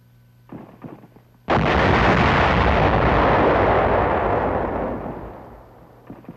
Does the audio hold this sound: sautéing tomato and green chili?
no